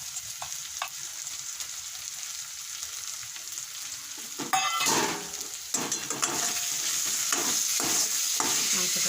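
Chicken fried with green chillies and ground spices sizzles in a pan, with a spatula stirring and scraping steadily; the frying hiss grows louder and busier midway, close and without talk.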